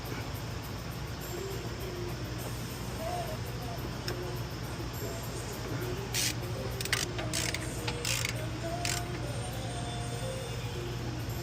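A ratchet tightens a torque-to-yield camshaft bolt on a 2013 Escalade engine during a cam timing job, giving a short run of quick clicks midway over a steady background hum.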